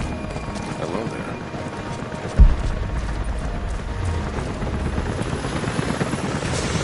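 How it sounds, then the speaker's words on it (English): Steady helicopter rotor drone from the game Rise of the Tomb Raider, a continuous low thrum that holds throughout, with a single sharp thud partway in and faint talk beneath. "helicopters are headed your way"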